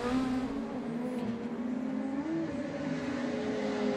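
Onboard audio from René Rast's race car gives a loud, sustained engine whine with a slowly rising and dipping pitch as the car accelerates and shifts, continuous and close.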